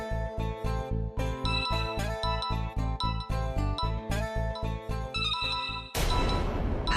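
A bright, repeating electronic ringtone melody plays loudly and steadily, its chiming notes looping in a quick rhythm before cutting off into a burst of noise.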